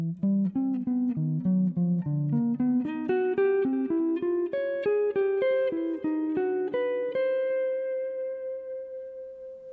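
Guitar plays a lick built from major triads in shifting note order, a run of clean, distinct plucked notes climbing steadily higher with slight echo, ending on a long ringing tone.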